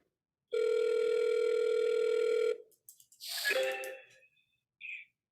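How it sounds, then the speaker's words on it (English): Telephone voicemail tone on an outgoing cold call: one steady electronic beep lasting about two seconds, followed by brief garbled line noise and a short chirp. "Please state your name after the tone."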